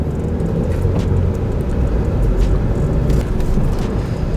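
A Chevrolet Aveo, restored and styled to look like a Ferrari, drives steadily, giving a continuous low engine and road rumble from inside the car with no talking.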